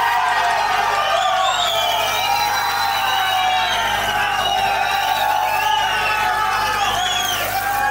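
A live studio audience at a singing competition roars, cheers and whoops continuously for contestant Pepa Simpson, a loud, sustained crowd noise with shrill shouts rising and falling throughout.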